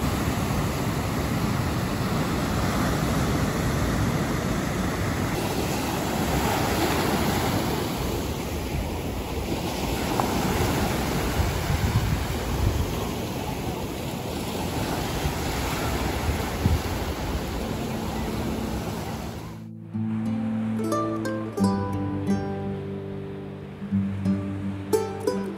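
Ocean waves and surf roll continuously on Peru's northern coast, loud and steady with wind buffeting the microphone, before cutting abruptly to quieter tonal sounds near the end.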